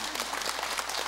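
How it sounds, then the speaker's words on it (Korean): Brief burst of audience clapping at a Sunday Buddhist dharma service, steady dense applause lasting about a second with no voices over it. "박수 한번 쳐야 되지 않아요?"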